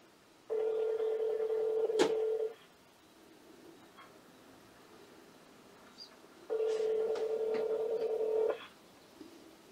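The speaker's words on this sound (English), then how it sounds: "We're calling you from the cabin." A phone call ringing through a HiBoost cell signal booster at a cabin: two long electronic ring tones, each about two seconds, separated by a quiet pause, fairly clear and steady.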